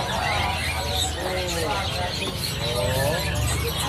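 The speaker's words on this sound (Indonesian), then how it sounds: "ada juga stok burung jalak Rio-Rio. Ini pokoknya sudah pur total, sudah bunyi pokoknya" A Rio-Rio starling calls amid a busy bird shop, its whistles blending with many other chirps and tweets in a continuous, crowded chorus while people talk in the background.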